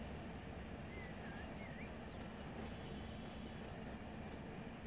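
A locomotive rolls along the track in the Run 8 train simulator, a steady continuous rumble with faint wheel squeals drifting above it and no voices.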